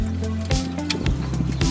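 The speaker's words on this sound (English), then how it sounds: "is just draining the engine a little bit because the manifold is full of coolant" Coolant drains and drips from the engine manifold of a 1978 Toyota Corolla during an EFI conversion, a brief liquid trickle and splatter over a steady low hum, close by with no talking.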